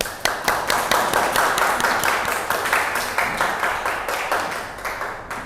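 A classroom group claps in a rhythmic, near-unison pattern for a group that has just presented its discussion results at a teacher-training session, loud and close with evenly spaced beats that slowly fade.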